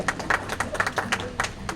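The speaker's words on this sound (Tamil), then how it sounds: "இங்க பாத்தீங்களா, அவர் முதல் கைத்தட்டல ஆரம்பிச்சிருக்காரு" Scattered hand claps from an audience at a lively Tamil speech event, a few people clapping in uneven bursts that build into a loose round of applause, fairly close and moderately loud.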